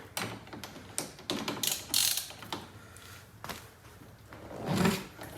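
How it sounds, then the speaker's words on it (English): A wrench working on 14 mm car seat reclining mechanism bolts, giving scattered close metallic clicks, ratcheting and clunks with pauses between, fairly quiet overall. "The reclining mechanism bolts is a 14 millimeter, so slightly bigger. I have them set to a different wrench here."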